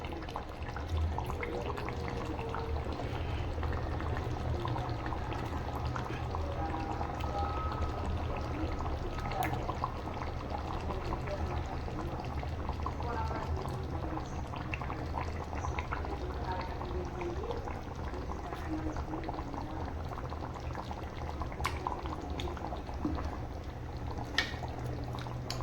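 Goat leg curry (aattu kal kulambu) with vegetables simmering in a pot: a continuous, fairly faint bubbling and burbling that stays steady throughout, with a voice talking over it.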